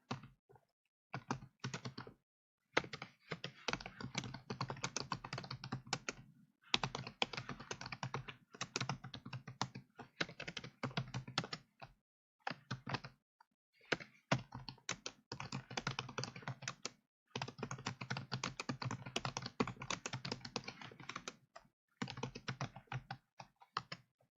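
Bursts of rapid keystrokes on a computer keyboard during a Korean word-processor (ITQ Hangul) lesson, clattering fast in runs separated by short pauses, close and fairly quiet with no talk.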